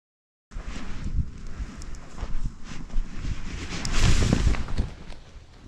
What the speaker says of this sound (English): The wind was nicely head-on, so launching was easy.